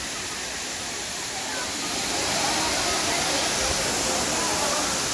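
Thusharagiri waterfall, flowing gently after little rain into a pool where people bathe, makes a steady broadband rush that swells slightly louder and stays constant.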